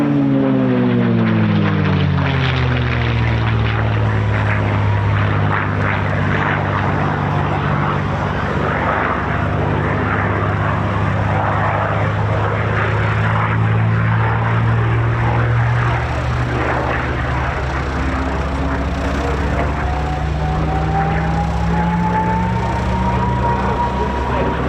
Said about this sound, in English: We know it as the P-51, but in this Australian built form, it's the Commonwealth Aircraft Corporation Mustang Mark 21.